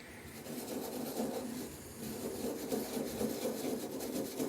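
A steady, close rasping scrub as rust is rubbed by hand off an antique brace, continuous and fairly quiet, with rhythmic back-and-forth strokes.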